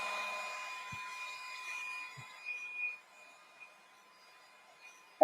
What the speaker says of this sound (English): Heat gun. I'm going to try to dry this.